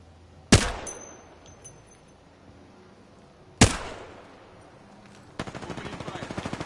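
Gunfire in a ranked first-person shooter match: two loud, sharp single shots several seconds apart, each ringing out and decaying, followed by a rapid automatic burst at the end.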